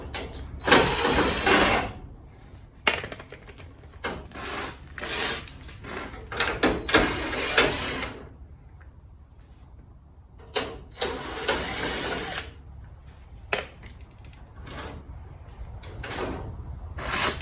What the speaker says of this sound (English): I should be able to get a Sawzall in between there and hopefully cut it